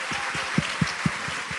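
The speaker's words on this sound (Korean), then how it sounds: "박수 부탁드리고요" Audience applause at a healing talk concert, a steady wash of many hands clapping, with a few louder individual claps standing out near the front.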